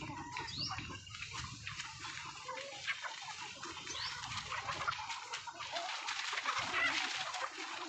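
Several hundred chickens on a farm make a busy, dense chatter of clucks and peeps, with scratching and rustling throughout and no talk over it.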